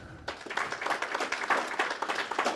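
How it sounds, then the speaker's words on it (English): A seminar audience breaks into applause for speaker Evan Reis at a talk on resilient seismic building design, a sudden onset of many hands clapping that holds steady and fairly loud throughout. "please give a round of applause for Evan Reis"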